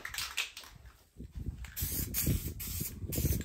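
SEM Landau coating sprayed from an aerosol can onto a Foxbody Mustang interior during a black interior conversion, heard as close, loud hissing bursts, one long spray after a brief pause, then a series of short pulses.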